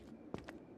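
Hard-soled lace-up combat boots clop along a residential street in Tsukihime, a few sharp, echoing footfalls spaced apart over a low background hum.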